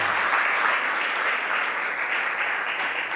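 Congregation at a live church service in Badajoz applauding, a steady broadband wash of many hands clapping throughout, moderately loud and even with no pauses.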